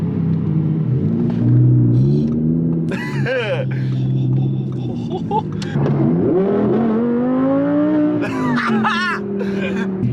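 Audi R8 V10 Plus or McLaren 675LT supercar driving, its steady low engine rumble rising and falling under continuous in-car conversation.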